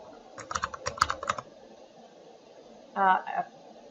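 Quick keystrokes on a computer keyboard, a burst of several taps followed by a pause and a short second cluster, close and clear over faint room noise.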